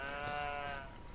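One sheep in the Western video game Outlaws of the Old West lets out a single wavering bleat, close and clear, fading out after about a second with no talk.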